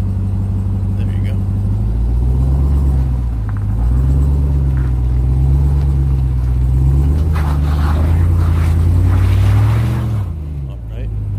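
A Ram TRX truck coasting off-road with its low engine rumbling steadily and rising and falling slightly, loud and close, while people talk nearby.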